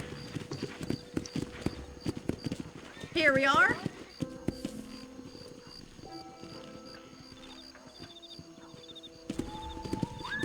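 Rhythmic hoof clip-clops on hard ground in the game Red Dead Redemption, with a horse whinnying partway through, under a man's brief speech and game music tones.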